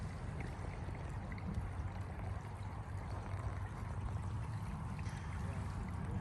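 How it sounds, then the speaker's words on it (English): Water pouring into a waterway in East Palestine, Ohio, a steady low rushing flow that stays even and moderately loud throughout with no talk over it. "Look at that just pouring in."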